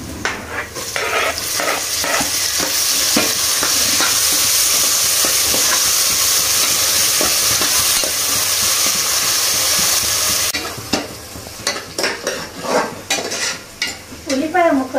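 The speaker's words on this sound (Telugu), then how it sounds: "ఉల్లిపాయ ముక్కలు అడగంటకుండా బాగా కలుపుతూ ఫ్రై చేసుకోవాలి" Onions and tomato stir-frying in a pan for mutton curry, a loud steady sizzle and hiss with scraping stirs and utensil knocks, easing off toward the end into clattering and pan noise.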